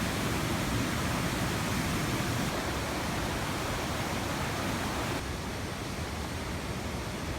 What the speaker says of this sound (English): we decided to do a little detour and check out a waterfall